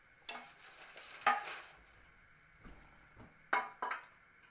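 Metal cake pans for a chocolate layer cake are picked up and set down in a kitchen, giving a few separate clanks and scrapes with quiet pauses between them.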